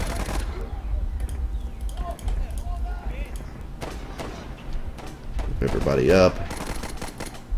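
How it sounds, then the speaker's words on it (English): Machine gun fire in the trench-warfare game Warfare: 1917, with loud rapid bursts and scattered gunshots running under a man's speech, plus a few thuds. "So now we've got machine gunners on our side."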